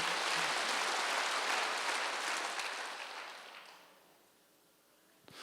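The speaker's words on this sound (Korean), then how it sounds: "박수 한번 주세요" Church congregation applauding during a Wednesday worship sermon, a loud burst of dense clapping that fades away over several seconds into near silence.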